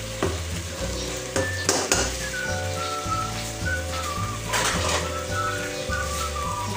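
Potatoes with ham and onion fry over medium heat in a pan and are stirred, a steady sizzle broken by repeated scraping strokes of the spoon, close and fairly loud, with no voices.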